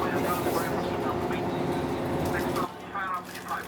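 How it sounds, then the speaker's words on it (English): Train interior ride with a steady rumbling, droning rail noise that drops noticeably near the end, while a person talks over it. "On the train."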